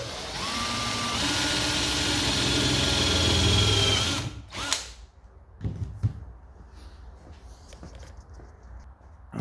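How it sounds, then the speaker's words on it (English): A power drill whines steadily as it bites into the lip of a Mini MPI car bonnet during a repair, loud and close for about four seconds. It then stops abruptly, leaving quiet workshop clatter and scattered knocks. "If you aren't confident with starting off a drill like that and just going into it without it sliding all over the place"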